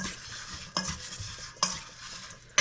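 A spoon stirs a chicken Parmesan mixture in a bowl, with a soft scraping shuffle broken by three sharp clinks of utensil on the dish, close and clear with no talking.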